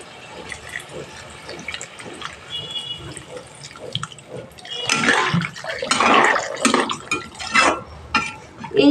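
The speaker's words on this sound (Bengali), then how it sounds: "এবার এখানে আমি পরিমাণ মতো জল দিয়ে দেবো ঝোলের জন্য।" Water poured into a simmering Bengali fish curry of katla fish with drumsticks and potatoes, a splashing, trickling pour that builds louder over several seconds, close by, with no talk.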